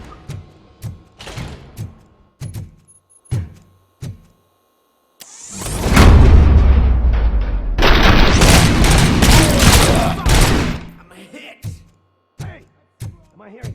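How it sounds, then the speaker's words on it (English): Gunfire in the video game RoboCop: Rogue City. Scattered sharp shots and thuds give way to a long, loud burst of rapid automatic fire with booming impacts, then more isolated shots. "Hearing gunshots?"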